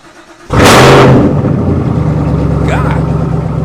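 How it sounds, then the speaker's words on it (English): A Chevrolet Camaro ZL1 V8 fires up on a cold start: a loud, sudden roar that flares high and then settles into a deep, steady idle, heard close up with no talk. "Here is what might be the last cold start."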